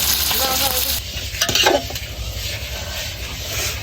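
Fish heads fry in a pan with a steady, close sizzle, while a utensil stirs and scrapes against the pan now and then.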